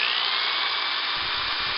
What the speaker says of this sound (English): I'm going to drill a hole right here in the top of the cap so that we can slide our tubing down in it.